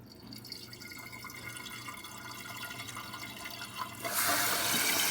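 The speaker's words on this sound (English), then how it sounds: "that's the sound that we hear when we walk by and we hear the toilet fill up" A toilet tank with a leaking flapper refills with water, a soft trickling at first that swells into a louder, steady rushing fill toward the end.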